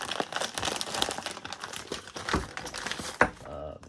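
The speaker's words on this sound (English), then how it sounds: "I'm gonna open this part." Plastic packaging holding a Z1 differential breather kit crinkles and tears as it is opened up close, with steady crackling rustles and a few sharper snaps.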